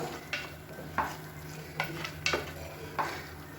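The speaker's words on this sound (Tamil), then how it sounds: "இப்போ இதையும் சேர்த்து நல்லா கலந்து விட்டுக்கலாம். இப்போ இதிலே வந்து நல்லா குக் ஆகட்டும்." A spoon scrapes and stirs chicken in a cooking pot for chicken gravy with a handful of distinct strokes, over a steady low hiss of food cooking nearby.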